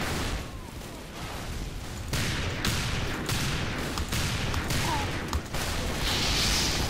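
Rapid volleys of revolver gunfire from the Diamondback in the video game Team Fortress 2, sharp repeated shots layered over dense battle noise and explosions, loud and continuous with no talking.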